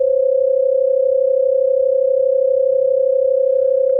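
A steady 528 Hz sound-healing tone plays as a single pure, loud, unwavering pitch, held constant from start to finish with no other sound.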